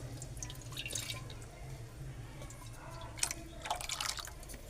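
A little water is poured into a raw mango dish, giving quiet splashes and drips that grow busier toward the end over a low background hum.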